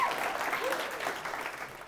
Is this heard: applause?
yes